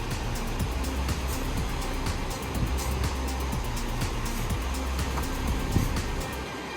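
A vehicle stuck in soft beach sand revs its engine hard, giving a loud, steady, rumbling roar that holds throughout with small surges and no pauses.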